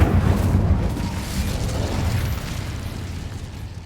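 An Incendio fire spell cast in Hogwarts Legacy on PS5, a loud rumbling burst of flame that starts strong and sustains as a dense roar, fading slightly over a few seconds with no talking.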